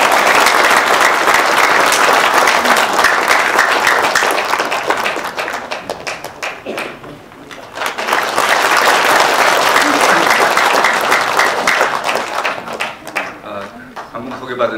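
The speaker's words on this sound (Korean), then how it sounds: "여러분 큰 박수 부탁드리겠습니다." Audience applause at a Korean civic group's rally launch, welcoming a lawyer to the stage: dense, steady clapping for several seconds, a brief dip, then swelling again before tapering off.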